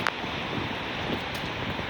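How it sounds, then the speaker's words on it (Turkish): Steady wind blowing outdoors on a summer night, a continuous broadband rush with no breaks, close to the microphone and with no voices. "Çok güzel bir rüzgar esiyor şu an."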